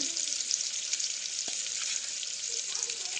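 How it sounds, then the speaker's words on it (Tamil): Sliced onions fry in a pan for a rice and lentil dish, giving a steady, soft, high sizzle with one faint knock partway through. "வெங்காயம் நல்லா வதங்கிடுச்சு"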